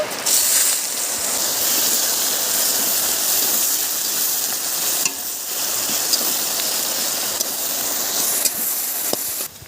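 Onion frying in oil with whole garam masala spices (cardamom, cloves, cinnamon, black pepper) gives a loud, steady, hissing sizzle that stays constant, with a few brief dips.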